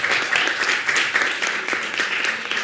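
Studio audience applause on a Christmas family TV show, a bright sustained wash of many hands clapping close and loud, holding evenly from start to finish without speech.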